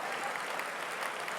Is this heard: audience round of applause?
yes